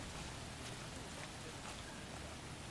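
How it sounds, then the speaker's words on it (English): Steady, dense rain in L.A. Noire hisses continuously with no clear breaks, a soft even wash of falling drops. "Ooh, it's raining."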